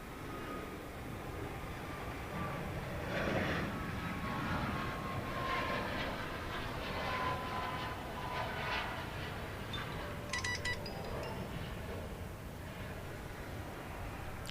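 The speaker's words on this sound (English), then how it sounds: "we've got those FA-18s on final. Is that what this is?" F/A-18 military jets on final approach at Dallas Love Field at night roar steadily at a distance, a broad sustained engine rumble that swells and fades slightly, with no voices.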